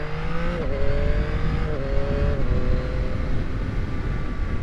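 A 2021 Yamaha MT-09 motorcycle pulls away on light throttle, a steady engine drone rising in pitch with brief gear-change dips under heavy wind rush, heard from the rider's position.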